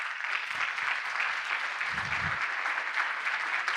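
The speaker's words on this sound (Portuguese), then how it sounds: "né, uma salva de palmas" Audience at a Brazilian marketing conference talk applauds steadily, a dense, even patter of many hands clapping that continues throughout at moderate loudness.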